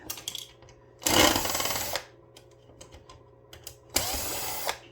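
Fan screws are being worked out of a Power Mac G3 computer case with a power driver, which whirs in two short bursts separated by quiet pauses and small handling clicks.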